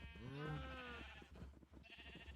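A cow in the Minecraft video game gives a single drawn-out, wavering moo, loud and close, followed by softer game noises.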